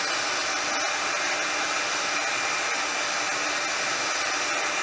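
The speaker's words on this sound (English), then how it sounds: "I take my heat gun and I hit it until it starts melting and softening that flat back" A heat gun blows a continuous, even roar of hot air onto a doll part to soften its flat back, steady and close throughout with no pauses.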